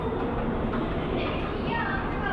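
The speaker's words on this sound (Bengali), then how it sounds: "আপনাদেরকে দেখাচ্ছি যে এখানে রেলওয়ে স্টেশনের অবস্থাটা কী।" A train at an LRT railway station in Malaysia gives a continuous, fairly loud low rumble with no break.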